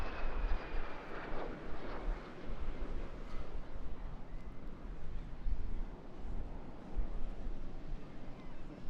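A de Havilland twin-boom jet aircraft with a Goblin turbojet flies at a seaside airshow, giving a broad, sustained roaring rumble that swells and fades over several seconds, with wind noise on the microphone.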